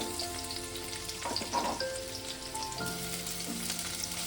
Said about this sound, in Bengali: পেঁয়াজটাকে দিয়ে মিনিট 2 ভালো করে নেড়ে নেব। পেঁয়াজটা ভেজে নেব।